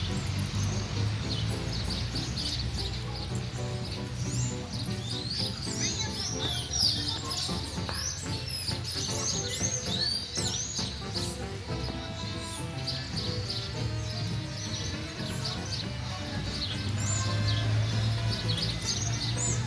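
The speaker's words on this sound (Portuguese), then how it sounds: "Os passarinhos estão cantando." Small birds chirp and twitter in a steady chorus over a continuous low rumble, with no one talking.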